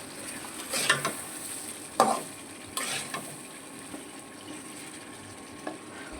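Duck meat frying in a pan as it is stirred, with a steady low sizzle and a few sharp scrapes and clatters of the spoon against the pan at irregular intervals, close by and moderately loud, with no talking.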